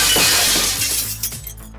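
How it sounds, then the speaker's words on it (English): Glass pane in a back door shatters after a thrown brick hits it, one loud crash followed by scattered falling shards tinkling for over a second. "You shattered the glass in the back door."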